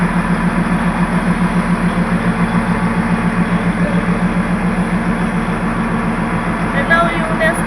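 The Darjeeling toy train's engine idles at Kurseong station, a loud steady low rumble with a constant throbbing pulse filling the whole stretch, with faint background chatter.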